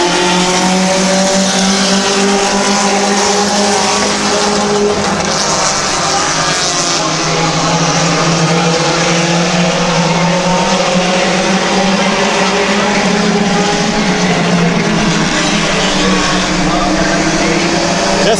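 Ten race cars running laps at Midvale Speedway, engines droning and rising and falling as they sweep around the track, loud and continuous, with an announcer talking over them.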